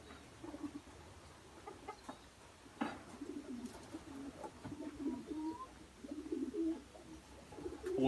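A racing pigeon with a broken wing, recently returned home to a rural loft, cooing in soft repeated low phrases alongside other birds, with faint taps and rustles nearby.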